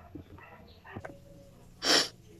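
A person sneezes once, sharply and close, while cleaning dust in a bedroom without a face mask, with faint breathy sniffs and small handling noises before it.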